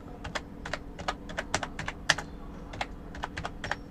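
Typing on a computer keyboard, with quick clustered keystroke clicks in an uneven rhythm, close and clear over a faint background hum, no talk.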